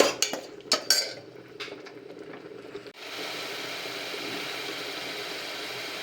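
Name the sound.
stirring green pigeon pea curry in a pan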